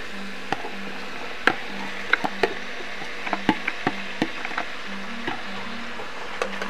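Onions go into sizzling veggies in a pan, a steady frying hiss punctuated by sharp utensil taps and stirring knocks spread irregularly through, heard close with no talk.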